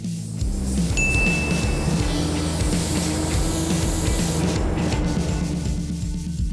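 Paint spray gun hisses steadily while laying a coat on a 1970 Plymouth GTX 440 six-barrel, a continuous close-up spray with a compressor hum underneath and no speech.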